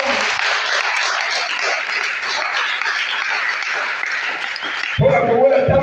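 A church congregation applauds in a dense, steady wash of clapping that holds for about five seconds before a voice starts speaking over the room.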